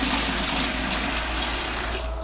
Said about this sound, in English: Let's pour the water into the bucket.